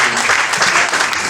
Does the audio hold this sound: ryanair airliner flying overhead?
no